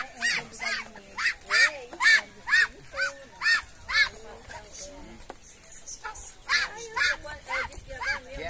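Ducks on a Brazilian farm give a run of loud, close quacks in rhythmic bursts, pausing briefly before starting again, with people talking nearby in Portuguese.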